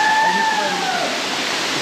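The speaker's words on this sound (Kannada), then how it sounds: "ಸೊ ಗಾಯ್ಸ್, ಫಾಲ್ಸ್ ನೋಡಿ." Rushing water from Ermai waterfall near Ujire in Dakshina Kannada gives a steady, loud wash of broadband roar, with faint tonal sounds drifting above it.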